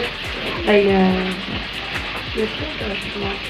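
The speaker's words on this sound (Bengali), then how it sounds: "এখন এখানে কি রান্না হচ্ছে এটা এটা কলা ভাজা কলা ভাজা হচ্ছে" Steady oil sizzle from banana slices frying, with a low rhythmic rumble and faint talk in the background.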